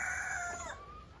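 An ornamental Onagadori rooster gives a single drawn-out crow, loud and close, that fades toward the end.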